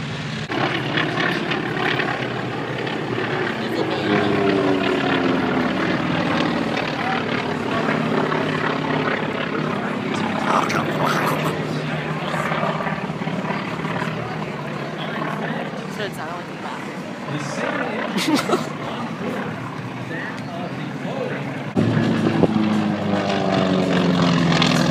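A propeller plane passes at an air show, a droning engine that rises and falls in the distance over crowd noise while people talk nearby.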